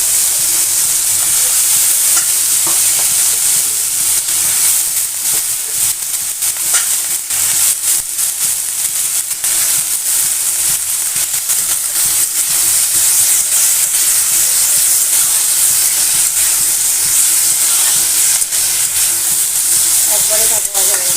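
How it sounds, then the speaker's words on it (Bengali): Potato, onion and shrimp frying together in a pan, a loud, dense, hissing sizzle that runs steadily and close throughout, with faint stirring beneath. "তো একবারেই ভাজা হয়ে গেল আলু পেঁয়াজ চিংড়ি মাছ সব কিছু"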